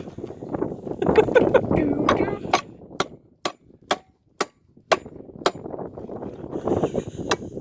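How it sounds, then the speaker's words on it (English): A series of sharp, evenly spaced strikes of a small survival-kit hammer (Ozark Trail) driving nails, about a dozen crisp knocks, with muffled talk and handling noise before and after. "Now we shall try to drive in some nails."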